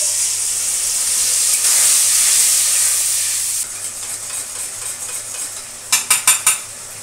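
Spice masala sizzles and hisses steadily in ghee in a pan with potatoes fried with cumin, cardamom and cinnamon, then a run of four sharp spoon scrapes and clinks against the pan closes the sequence.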